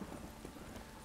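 Geralt's horse Roach clip-clops along in The Witcher 3, with hoofbeats blurred into a continuous, fairly quiet game soundscape.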